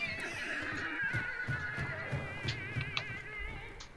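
A horse in the video game Hunt: Showdown neighs with a long, wavering whinny, joined by soft hoof clops and low rumbling in the background.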